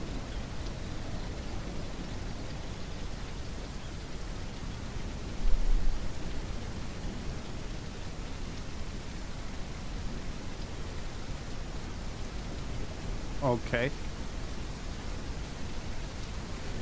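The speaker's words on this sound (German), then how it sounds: "Es ist ultra stürmisch. Was geht denn mit dem Wetter ab?" Stormy weather in the video game The Isle, a steady broadband hiss of wind and rain with a brief louder gust, plus a short spoken word near the end.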